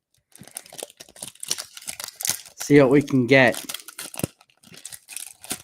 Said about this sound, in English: So we'll open up a pack of Series 1 I picked up.